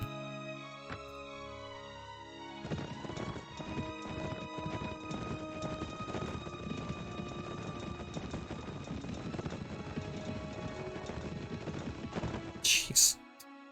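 Many horses gallop in a Mount & Blade Warband battle, a dense, steady clatter of hooves mixed with game noise and music, with a brief louder burst at the end.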